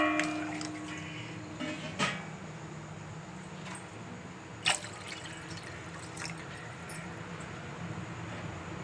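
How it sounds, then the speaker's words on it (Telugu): Water poured from glasses into a pot set on a lit stove, a steady close pour with light drips and a couple of sharp clinks, no one speaking. "2 glasses వాటర్ పోసుకోవాలి."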